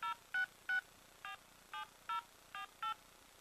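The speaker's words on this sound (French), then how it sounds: "La composition du numéro est en cours." A phone number is keyed in on an iDevice calling app: eight short DTMF dialing tones in an uneven rhythm, faint and clean with no talk over them.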